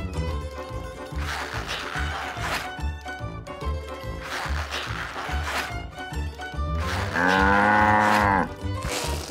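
A mother cow moos in a cartoon, with several long, loud lowing calls repeating over a rhythmic background music track.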